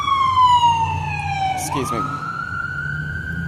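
An ambulance siren passes along a street, a steady loud wail whose pitch drops as it goes by, with a brief spoken apology over it.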